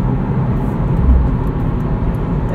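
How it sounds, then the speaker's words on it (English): Steady low road and tire roar fills the cabin of a 2020 Subaru WRX with a manual transmission on a night drive, a continuous broadband rumble with no talk over it. "Main complaint, there's quite a bit of road noise."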